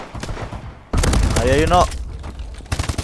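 Gunfire rattles in the first-person shooter Call of Duty: Advanced Warfare, a dense burst of rapid shots and loud blasts midway amid game noise, while someone speaks Spanish over it.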